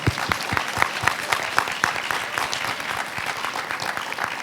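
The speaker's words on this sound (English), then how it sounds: "please join me congratulating them on their successful debate with a round of applause" An audience at a high school debate final gives the finalists a round of applause: loud, individual claps stand out near the front over a steady wash of clapping from the hall, sustained and unbroken.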